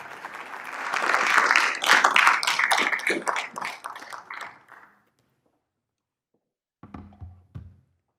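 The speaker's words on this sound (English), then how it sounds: "A big round of applause to Bit Voice Pay." An audience at the MIT Bitcoin Expo applauds a second-place team, loud sustained clapping for about five seconds that fades out, then after a pause a brief burst of soft taps and thumps.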